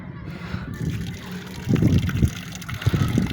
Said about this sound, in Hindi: पानी डालते हैं इन्हें अब हम